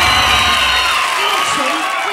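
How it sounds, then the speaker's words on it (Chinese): A studio audience cheers, whoops and applauds during a dance-battle segment on a Taiwanese TV variety show. It is a dense, continuous wash of crowd noise, loud and close, lasting about two seconds. "也要给人家掌声鼓励一下"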